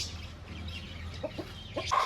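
A heavy-bodied laying hen gives a few soft, brief clucks close by over a low background hum, the short calls spaced irregularly toward the end.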